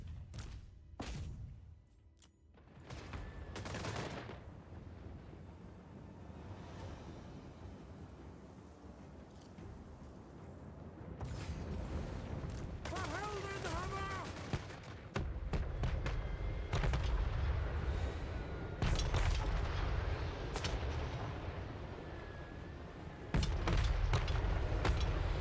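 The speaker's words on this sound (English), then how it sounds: "hold fire with those machine guns" Machine gun fire and booming battle blasts in Total War Warhammer III, bursts of gunfire and heavy impacts over a rumbling, wind-like battlefield ambience, with no speech.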